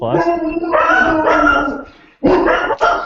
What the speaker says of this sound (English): Ignore our crazy dogs here